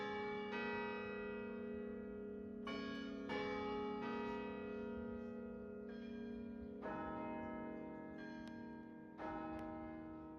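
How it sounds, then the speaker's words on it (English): Church bells ring in Heidegger's hometown, a series of resonant strikes at irregular intervals whose long, humming tones overlap and sustain, clear and fairly close with no voices. "hearing these bells and walking into this church"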